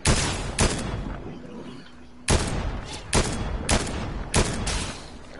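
Video game gunfire bursts out in sharp, loud clusters, about six distinct volleys with short gaps, close and dominant over a faint background.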